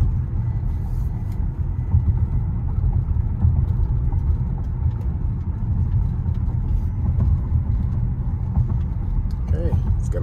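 Tesla car driving on Full Self-Driving 12.3.6 through Frisco, Texas, heard from inside the cabin as a steady low road rumble and tire drone, continuous and even, with faint higher ticks near the end.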